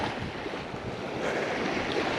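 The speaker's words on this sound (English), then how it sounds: "The front of the island has some nice waves right now," Ocean surf breaks along the front of an island in windy conditions, a steady loud wash of rushing water with heavy wind buffeting the microphone.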